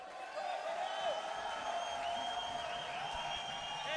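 A crowd at the parkour world championships men's skill finals cheers and whoops for an athlete, a steady roar of voices with scattered shouts, heard under a commentator talking.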